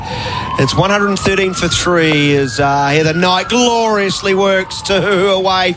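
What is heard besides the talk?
fire engine and ambulance sirens near Basin Reserve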